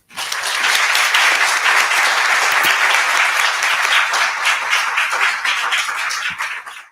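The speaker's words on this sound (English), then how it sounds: "round of applause for our panelists" An audience at a panel discussion on access to justice research gives a sustained round of applause to the panelists, loud and dense for several seconds before tapering off.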